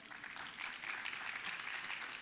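Audience applause at a heritage day event, a continuous dense patter of many hands clapping, steady and moderately distant throughout.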